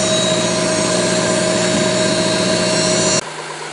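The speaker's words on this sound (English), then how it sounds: "What we hear right now is the secondary air injection." Secondary air injection pump whirring steadily on an Audi 2.7T engine in an A6/S4, a loud constant droning hum with a tonal whine over engine idle, cutting off abruptly near the end to a quieter idle.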